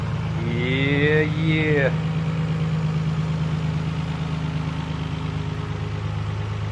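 A Nissan RB26 engine swapped into a 300ZX idles with a steady, loud, low rumble, while a brief voice rises over it near the start.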